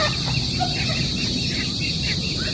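Chickens in a small backyard coop at dusk cluck and murmur together as a steady, fairly loud flock chatter over a broad outdoor hiss.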